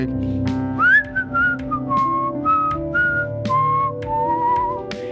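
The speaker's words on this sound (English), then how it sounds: "he's just whistling" A person whistles a wavering, melodic tune in short phrases, fairly close, with background sounds beneath.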